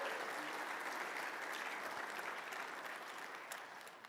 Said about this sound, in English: Can you give a big round of applause for Rebecca Jensen?